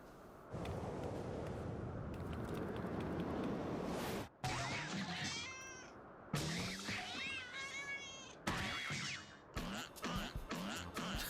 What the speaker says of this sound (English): there's a terrifying cat here